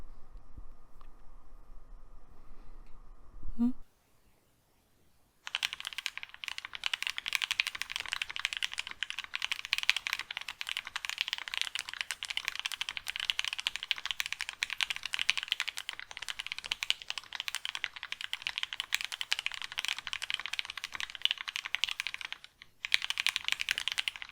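Rapid, steady typing on a mechanical keyboard with lubed Tealio V2 switches, smooth muted clacks in a continuous stream, close up, after a brief pause at the start.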